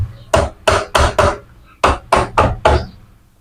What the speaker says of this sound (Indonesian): bagian depan diketuk-ketuk aja pakai kepala obeng ya teman-teman